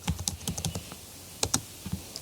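Quick, close clicks of a computer keyboard as a short Linux command is typed, a run of keystrokes with a brief pause in the middle, over a faint background hiss.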